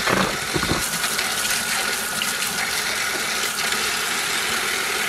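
Steady running water from a tap or hose washes freshly harvested carrots outdoors, a continuous broadband gush at moderate level with no talk over it.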